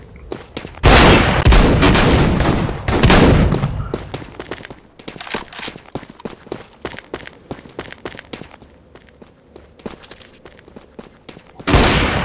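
Sniper rifle and other gunfire in the Roblox shooter Bloxstrike, with loud heavy shots at the start and end and a steady patter of rapid shots and footsteps in between.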